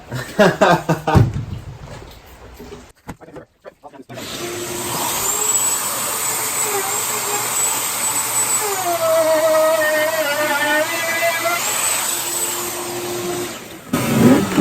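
A handheld router with a cheap bit cuts a mortise for a modular shop cabinet, a loud steady high whine lasting about ten seconds after a few short bursts and a pause, with brief voices at the start.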